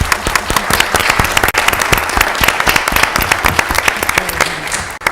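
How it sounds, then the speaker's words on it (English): A room full of people at a Mobile, Alabama city council meeting applauds steadily for Mr. Irby, a champion of Oaklawn Cemetery, with dense rapid claps that stay loud and close throughout. "Let's give him a round of applause."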